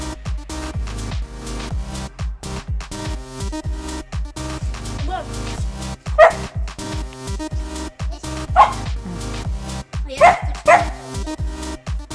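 A white Samoyed dog gives a few short, sharp barks, scattered over several seconds and heard over a rhythmic music track.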